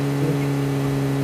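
A video game vehicle approaches from behind with a steady humming engine drone and a faint whir, close and even throughout.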